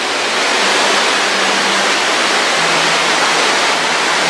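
Water rushing steadily in a valley stream in Seongju, a loud continuous broadband roar close by, unbroken for the whole stretch with no voices over it.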